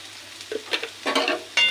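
Cabbage leaves fry in a pan with a brief sizzle and a few quick stirring scrapes, close and moderately loud, with no talk, for badhakopi pata bata.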